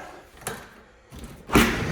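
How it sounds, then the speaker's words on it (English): An interior door in a house being opened during a walkthrough, a soft knock followed by a louder latch and swing near the end, close by. "Yep, this door opens."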